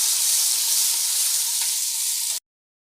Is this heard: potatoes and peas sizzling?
yes